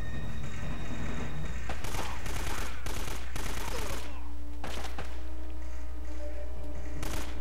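Shotgun gunfire in the video game Uncharted: Drake's Fortune, a loud burst of repeated blasts and rapid fire over a constant low rumble, followed by scattered shots and quieter game sounds.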